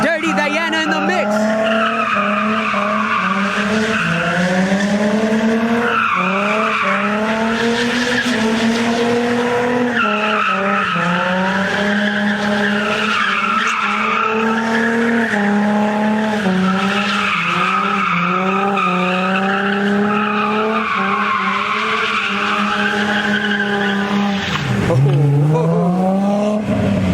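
A Ford Mustang drifting at a large car meet, its tires skidding and squealing continuously with a wavering pitch and the engine roaring close by, with voices talking over the din throughout.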